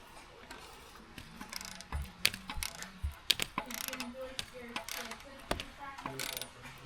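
Ratchet wrench clicking on an oil pump pickup bolt of a 5.3 Vortec engine, with irregular bursts of close mechanical clicks, clanks and metallic taps against a quiet shop background.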